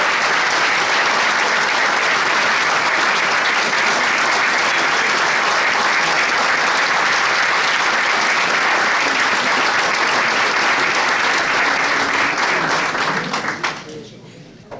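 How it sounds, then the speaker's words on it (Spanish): Loud, sustained applause from a large crowd at a 125th-anniversary event of Argentina's Unión Cívica Radical party fills the whole stretch, then fades out abruptly at the end. "vamos, el aplauso"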